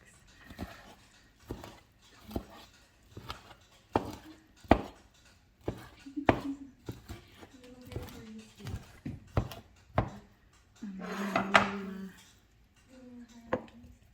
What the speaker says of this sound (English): So you cut it into chunks.